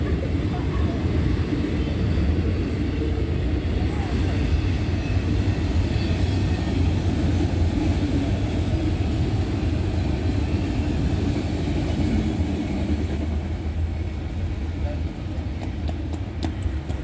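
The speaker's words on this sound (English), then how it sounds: "The train, as I took a picture of it, is headed east behind the property of Mercy House." Train rumbling past behind a property, a continuous loud low roar and rattle of rail cars that holds steady throughout without letting up.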